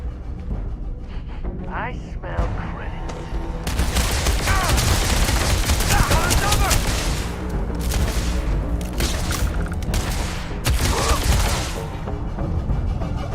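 Starfield video game gunfire in dense rapid bursts, a loud fusillade of shots and booms that starts after a quieter opening and continues with brief lulls; a voice speaks over parts of it.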